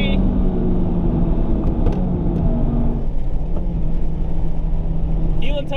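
A Honda Civic Type R engine pulling hard at high speed, a loud continuous droning roar with road rumble, heard from inside the car, a rising whine near the end.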